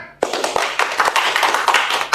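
An audience claps after a religious talk, with a burst of applause starting abruptly and continuing as a close, uneven patter of many hands.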